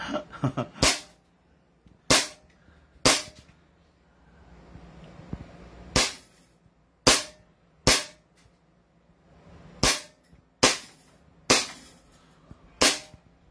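A 2011 Hi-Capa airsoft pistol fires about a dozen sharp, loud cracks at uneven intervals, close by, with quiet gaps between shots and no talk.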